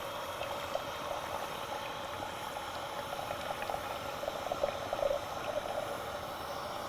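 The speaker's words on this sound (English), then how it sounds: "we need 3/4 of a cup of boiling water. So we'll fill that up to 3/4" Boiling water pouring steadily into a Mountain House Beef Stroganoff pouch outdoors, a continuous bubbling, gurgling fill that stays fairly quiet and close with no talking.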